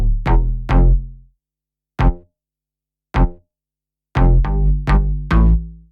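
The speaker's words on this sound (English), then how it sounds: "Now, these basses are all from different plugins and have different attack and decay times." Three layered synth basses from different plugins, sidechained together, play short punchy notes with sharp attacks and quick decays, separated by gaps of silence, loud and deep with no voices.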